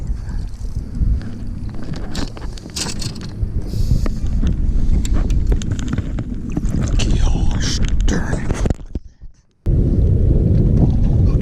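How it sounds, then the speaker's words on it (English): A motor boat on Lake Sam Rayburn in Texas runs close by, its loud steady engine drone and water noise filling the scene before cutting out abruptly near the end and then resuming. "I got a boat right there behind me."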